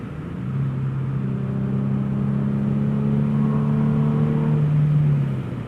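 Infiniti G37 with a six-speed manual and Motordyne exhaust on a sweeping country road, its engine droning steadily and close, pitch climbing and swelling in a rev-matched downshift before easing off, no talking.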